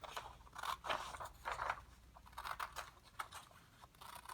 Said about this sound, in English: I'm gonna use scissors.